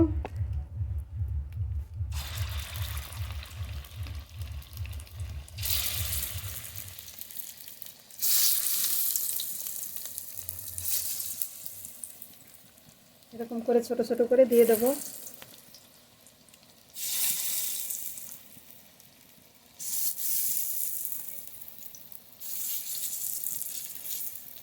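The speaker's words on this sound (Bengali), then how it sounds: "চিংড়ি মাছ মুসুরির ডাল তার মধ্যে মশলা করে যে বড়া ভাজছি" Prawn and red lentil fritters with spices, bound with a little flour, frying in mustard oil in a kadai: bursts of loud, close sizzling hiss rise and fade repeatedly as batter goes in, with someone talking between them.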